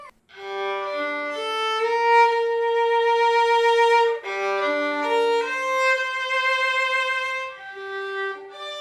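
Violin captured through a microphone, playing a sustained melodic line of bowed notes with rich harmonics, fairly loud and close, alone with no voices.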